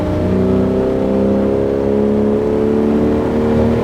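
Ferrari 412 V12 engine held at steady part throttle, a loud continuous droning hum with layered harmonics that rises slightly in pitch, close and alone with no voices.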